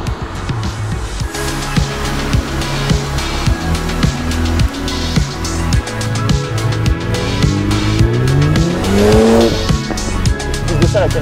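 A car driving laps on a circuit, its engine revving up and down through repeated gear changes, with tires squealing through the corners, loud and close throughout, one long rising squeal near the end.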